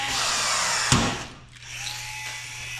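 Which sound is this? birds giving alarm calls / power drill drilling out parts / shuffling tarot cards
power drill drilling out parts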